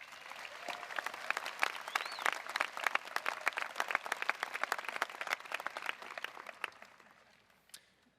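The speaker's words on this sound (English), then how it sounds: "Can we have another round of applause for our student speakers, please?" A graduation ceremony crowd gives student speakers a sustained round of applause, dense clapping that fades near the end, leaving one last lone clap.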